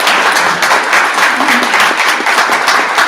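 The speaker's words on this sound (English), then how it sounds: "Let's give all of them a nice round of applause." Loud, close applause from a crowd at a Rotary Club meeting, brisk clapping rolling on steadily for a few seconds.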